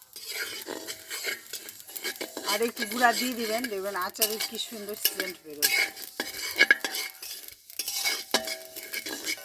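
Dry fennel seeds rattle and scrape as they are dry-roasted and stirred around a pan, steady and close, while someone talks over the sound.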